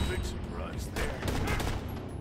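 Rapid gunfire in Borderlands: The Pre-Sequel on Xbox One X cracks in quick bursts against a dense game soundscape, loud and close over about two seconds.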